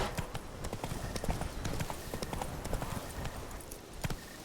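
Hoofbeats of a horse in The Witcher 3: Blood and Wine clip-clop steadily and close for the whole stretch, a quick rhythmic trot set over a busy game soundscape.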